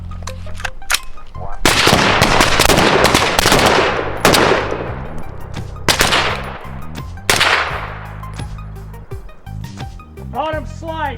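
Gunfire in three-round strings from guns fitted with red dot sights on a night vision training range, sharp loud reports in rapid bursts with echoing tails, repeated several times, and a brief voice near the end.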